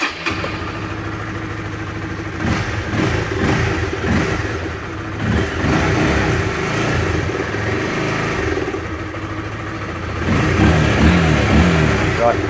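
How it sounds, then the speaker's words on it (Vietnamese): A Honda Winner 150 motorcycle engine starts and then idles and revs steadily nearby for several seconds, with a louder burst of revving near the end, while a person talks over it. "Sử dụng được xe, chúng ta có thể đề được."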